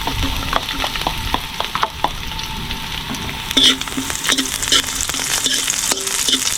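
Ginger and garlic sizzle in hot oil in a pan while cooking a frog dish at night, with steady frying hiss and sharp clinks of a utensil stirring throughout; a single word is spoken briefly.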